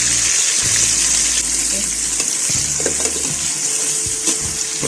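Mixed vegetables seasoned with salt, Maggi and white pepper frying in a pan, giving a loud, steady hissing sizzle with a few sharper crackles and bursts throughout, close up with no one talking.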